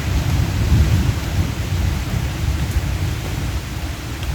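Heavy rain falls continuously during windy stormy weather in the provinces, a loud, steady wash of noise with a deep rumble underneath and no pause.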